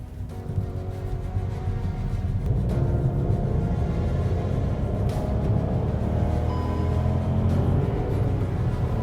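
A Hyundai Aura Turbo sedan's engine pulls hard under full throttle, a loud, continuous rising drone heard from inside the car that builds steadily over several seconds, with no talking.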